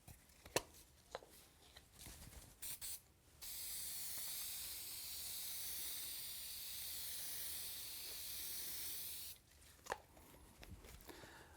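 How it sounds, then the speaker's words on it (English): Spray adhesive hisses in a steady, continuous blast lasting several seconds onto the back of a grill drawer liner, preceded and followed by scattered handling clicks and rustles. "I put a light coating of spray adhesive on the back of the liner,"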